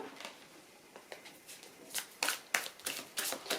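Tarot cards being handled and one drawn from the deck, giving a quick series of papery flicks and rustles that grow louder toward the end, close by with no talk.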